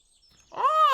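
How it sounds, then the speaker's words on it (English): Bird sounds play from a radio tuned to a frequency in a horror video game, a single warbling, rising-and-falling tonal call that swells up after a near-silent start and holds loud to the end. "Oh, bird sounds."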